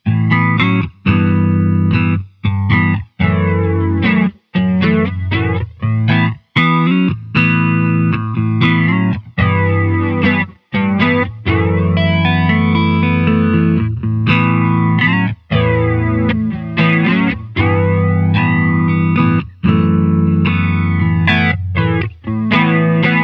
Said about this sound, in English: Flanger seems to be a more intense effect that you use to add movement to your sound.